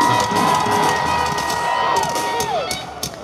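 A large crowd at a concert in Austin, Texas cheers and screams continuously through the whole stretch. Whoops and shouts rise from the mass of voices, heard over a sustained amplified tone.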